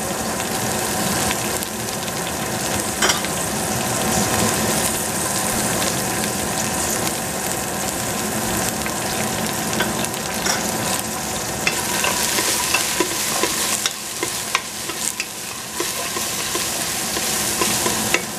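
Eggplant frying in a pan gives a steady, dense sizzle with occasional stirring scrapes, close and continuous, with no talking.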